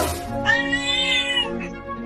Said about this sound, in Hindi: मुझे तो वो बिल्ली का बच्चा लग रहा है।